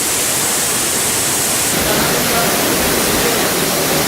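A distillery still running mid-distillation gives a loud, steady broadband roar, hot and noisy, with no clear breaks over the few seconds.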